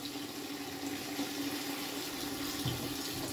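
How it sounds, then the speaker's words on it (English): Cold water runs steadily from a kitchen tap into a pan for cooking cauliflower, a continuous close hiss and splash with no talk over it. "If cold water wants to come out,"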